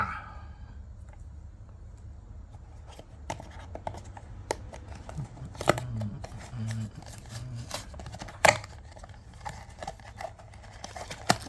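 A POP MART x AZURA Natural Elements blind box being unwrapped by hand: scattered crinkles, sharp rustles and clicks of cardboard and plastic packaging, soft at first and busier later, over low room noise.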